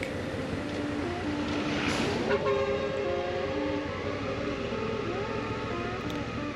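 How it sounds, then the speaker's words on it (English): A vehicle horn sounds in a sustained blast over a steady engine rumble on a narrow single-lane mountain road in Cañon del Pato, Peru, then fades as the drone carries on. "Horn honking and lights on high beam are really the only defensive measure against oncoming cars"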